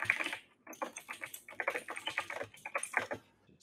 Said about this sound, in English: That was a loud-ass keyboard.